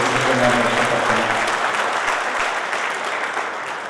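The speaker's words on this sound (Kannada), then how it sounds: "ಜೋರಾದ ಚಪ್ಪಾಳೆಯೊಂದಿಗೆ ಒಂದು ಅಭಿನಂದನೆಗಳನ್ನು" Loud, sustained audience applause fills a health department event hall, dense clapping continuing steadily throughout with a slight fade toward the end.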